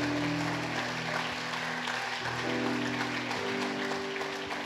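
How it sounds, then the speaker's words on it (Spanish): A church congregation claps in praise, a steady wash of applause running under sustained keyboard or organ tones that shift chords partway through, at a moderate distance. "Denle un aplauso al Señor."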